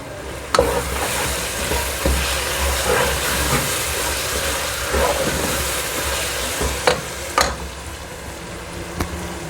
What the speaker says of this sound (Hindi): ये देखिए, मसाला मेरा काफ़ी हद तक फ्राई हो गया है।